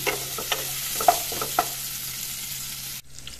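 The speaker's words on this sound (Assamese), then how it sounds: "তাৰপিছত দি দিছোঁ পিঁয়াজ এইখিনি অলপ ৰংচঙুৱা হ'বলৈ দিম" Onions with cumin fry in a pan as the base for a fish curry with okra and potato. Close, steady sizzling is broken by a few stirring scrapes, then drops away near the end.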